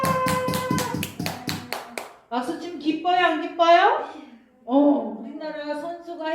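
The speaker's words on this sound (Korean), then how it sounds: "그러면 우리가 막 뭐 어떻게 박수 박수 쳐볼까요?" About eight quick, evenly spaced hand claps during a toddler church service, followed by lively, sing-song voices of people speaking and cheering.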